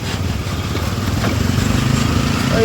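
A two-wheeler's engine idles after being brought to a stop, a steady close, low rumbling putter that continues evenly throughout without speech.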